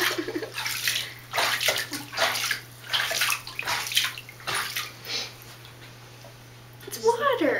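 Water sloshing and splashing in a bathtub while a small pet named Squeakers gets his first bath, with people talking over the continuous watery movement close by.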